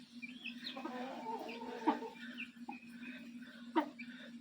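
Hens and chicks cluck and peep around a backyard fowl run, with two sharper calls standing out over steady soft clucking and a low constant hum underneath.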